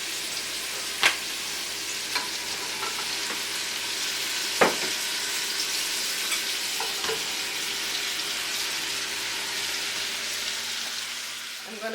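Bacon, pumpkin and cabbage fry in a pot with a continuous sizzle, joined by occasional stirring scrapes and a few sharp knocks of a spoon against the pot.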